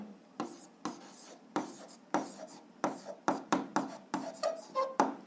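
Pen writing an answer by hand for a seventh-grade algebra exercise, producing a close, quiet series of short scratchy strokes in an uneven rhythm, with no talking.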